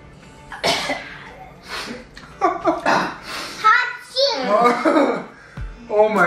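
A child sneezes abruptly amid excited children's chatter and laughter, the burst loud and close.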